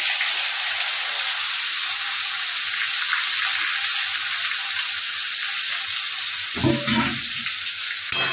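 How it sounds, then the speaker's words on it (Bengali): Onion and garlic paste frying in hot oil in a wok, a loud steady sizzle that fills the whole stretch, with a brief clatter of stirring near the end. "আমি তেলটা দিলাম কড়াইয়ে, তেলটা গরম হয়ে গেল। এবারে আমি পেঁয়াজ আর রসুন বাটাটা দিয়ে দিলাম।"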